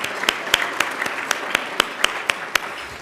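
A ballroom crowd at an awards luncheon claps, a dense patter of hands with sharp individual claps standing out, sustained for a few seconds at moderate loudness.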